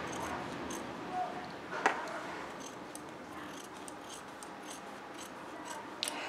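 Scissors snipping fabric close around a sewn hat pattern, a quiet close-up scraping and rubbing with a few sharper cuts spaced out in a soft room.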